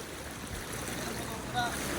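Someone wading through long stretches of rising floodwater during heavy rain, a continuous sloshing, rushing water wash with wind-like noise, fairly close and steady.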